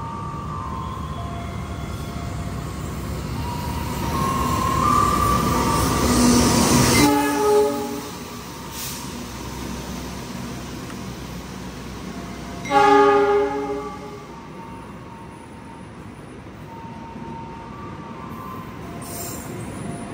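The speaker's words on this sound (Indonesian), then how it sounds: "Yang akan melintas langsung adalah kereta api Argo Parahyangan dari Bandung tujuan Gambir." The Argo Parahyangan passenger train from Bandung to Gambir rumbles through a station without stopping for about twenty seconds, with a brief horn-like swell early on and a louder burst of wheel and horn tones near the middle.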